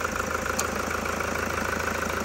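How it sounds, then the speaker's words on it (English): Toyota Hilux 3.0 D4-D diesel idles with a steady, even rumble as the air conditioning clutch engages, a brief click lost in the continuous engine drone. "that's the clutch for the air conditioning kicking in."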